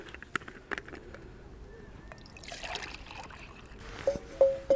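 Water pours into a Jetboil stove pot set in a windy outdoor camp spot among rocks, a soft, faint trickle lasting about a second amid quiet background, followed by a few light clinks.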